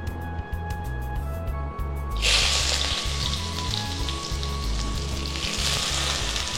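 Chopped onion hits hot mustard oil and bursts into a loud, steady sizzle that keeps crackling to the end, following a couple of seconds of quieter background hum.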